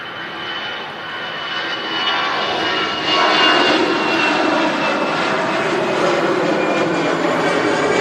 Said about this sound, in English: Another Airbus A319.